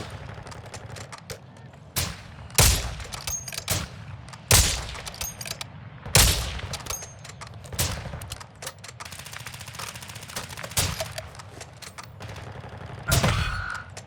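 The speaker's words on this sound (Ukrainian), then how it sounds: "Стріляйте по вертольоту" Bursts of Call of Duty Modern Warfare II Warzone 2.0 DMZ gunfire aimed at a helicopter crack out every second or two over a steady background rumble, some shots loud and close, others lighter and scattered.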